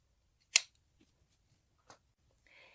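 Scissors cut sewn apron fabric close by: one crisp loud snip, then a softer snip and a faint rustle of cloth, otherwise quiet.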